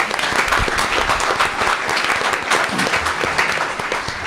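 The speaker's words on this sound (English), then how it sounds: "One more round of applause for our future state champions over there" A school board meeting crowd gives a loud, sustained round of applause, dense and even from start to finish, with a few cheers mixed in.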